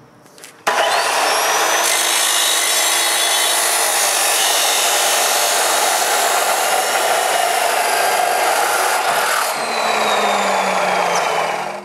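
A welded metal piece is cut in two with a power tool in a workshop, a loud continuous grinding screech that starts abruptly and holds steady for about eleven seconds, close and without speech.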